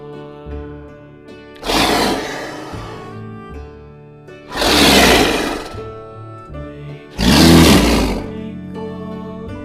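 Three loud, rasping leopard roar effects, each lasting about a second, sound at regular intervals over soft, tonal background music.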